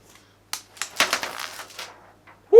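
Protective film peels off an MSI gaming laptop in a short crackling, rustling tear lasting about a second, close to the mic, with a few faint clicks before it and a louder bump at the very end.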